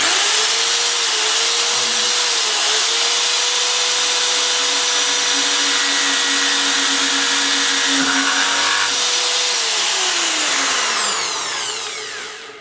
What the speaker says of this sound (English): turn the drill on.